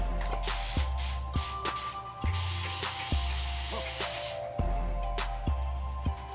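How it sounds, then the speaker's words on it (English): A pump spray bottle mists water onto natural hair for a wash and go, giving a hissy continuous spray with regular pump clicks about every second, recorded close against a low background hum. "you pump it and it's a continuous spray"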